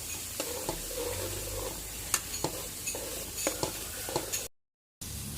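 Garlic fries gently over low heat with a soft, steady sizzle, broken by light scrapes and taps of a spatula against the pan and a brief silent gap near the end. No voices.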